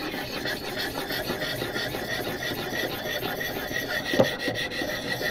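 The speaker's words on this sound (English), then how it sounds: "So you can actually hear the difference in the sharpening" Knife blade being sharpened with oil on a ViperSharp knife sharpener: a steady, continuous raspy grinding and rubbing that goes on evenly throughout, with one brief sharper scrape near the end.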